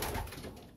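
Racing pigeons coo softly inside a loft at the start of the old bird season, a low continuous murmur of several birds, faint and close, with no talking.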